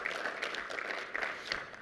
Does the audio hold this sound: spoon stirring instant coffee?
no